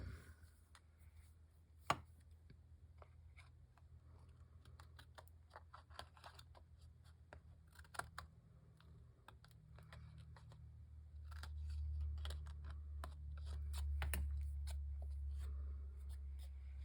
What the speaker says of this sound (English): Let me cut off these little hangy overs.